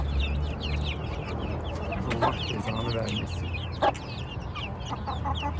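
Mother hens of a Turkish Gurk breed with their chicks cluck steadily nearby, the high peeps of chicks scattered throughout, while a person talks briefly over the farmyard din.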